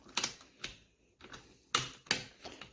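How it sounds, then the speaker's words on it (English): On a 2009 Ducati 1198, a key works the steering lock: a handful of sharp metallic clicks and clacks spaced irregularly, close up and crisp against a quiet background. "Let me get that steering bolt lock."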